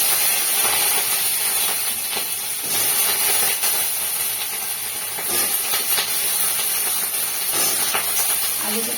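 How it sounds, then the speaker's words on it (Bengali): A large potato frying in a little oil while paneer masala is being cooked, a loud, steady sizzling hiss that holds throughout without a break. "আলুটাকে ভেজে তুলে নেব"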